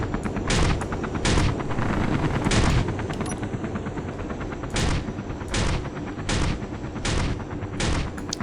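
Flak cannons blasting away in the video game Space Engineers, a loud, continuous rattling barrage of rapid automatic fire punctuated by heavier periodic booms, with no voices over it.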